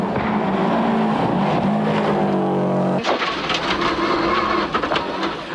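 Subaru rally car at speed on the high-speed final section of Rally Queensland 1997, a loud sustained engine drone with shifting pitch that drops and changes abruptly partway through, heard alone without talk.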